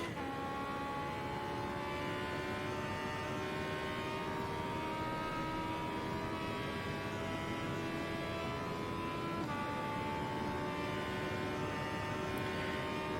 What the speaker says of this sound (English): listening to the engine screaming along the start-finish straight there, these have actually got motorbike engines